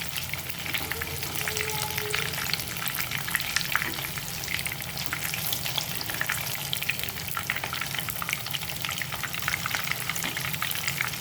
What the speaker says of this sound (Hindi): इस तरह से लाइट गोल्डन ब्राउन होने तक हमें फ्राई करना है इसे।